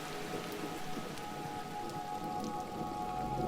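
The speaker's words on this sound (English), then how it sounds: "The rain is falling now." Steady rain falls in a continuous soft hiss with faint scattered drop patter, even and unbroken throughout, with a faint tonal hum running underneath.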